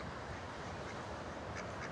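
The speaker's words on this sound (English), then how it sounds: "Just like these ducks, man, they're just chilling." Ducks quack a few times, faint and somewhat distant, over a steady outdoor background hiss.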